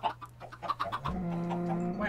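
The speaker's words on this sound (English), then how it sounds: "The chicken got out." A chicken in the Minecraft video game clucks in a quick series of short calls, followed by a sustained tonal game sound, fairly faint with no talking.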